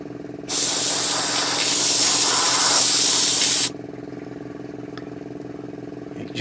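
An airbrush lays a quick mist coat of black onto a 1/35 scale Takom Chieftain Mk10 model tank, a loud, steady close-up hiss lasting about three seconds over a low compressor hum that continues afterward.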